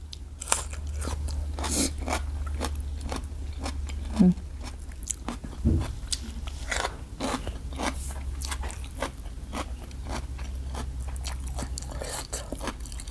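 Chewing and gnawing on roasted chicken bones over a lunch of large baked chicken and sticky rice: steady close crunching, cracking bites and scraping through the whole stretch with a low background hum, no clear talk.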